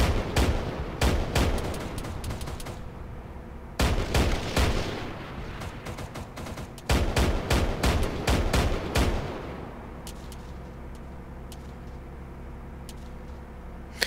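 Bursts of gunfire from a military video game, loud sharp volleys and rapid automatic strings in clusters, separated by quieter stretches of lingering rumble and a few isolated distant shots.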